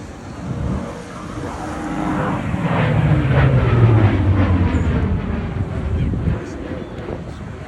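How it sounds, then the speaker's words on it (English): Big display aircraft engines roar at the Bournemouth Air Festival, a loud, swelling drone that builds toward the middle as the plane dives into a sweeping curve, with a voice talking over it. "Big engines. Beautiful aircraft, and all that power just dives off into a huge flying curve"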